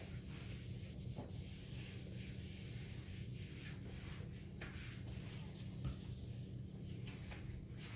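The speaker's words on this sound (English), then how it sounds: "Let me wipe my counter down." A kitchen counter being wiped down with a cloth, repeated soft rubbing swipes close by over a steady low background hum, with no talk.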